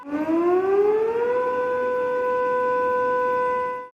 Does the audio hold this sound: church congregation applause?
no